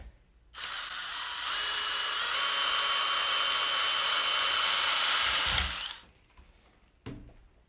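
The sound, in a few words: screwing a screw onto aluminum rod of chicken cage with grip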